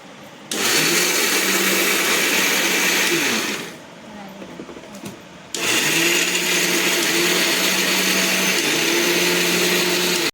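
A mixer grinder coarsely grinds coconut for fenugreek ladoos, a loud close whir in two bursts separated by a short pause with faint rattling.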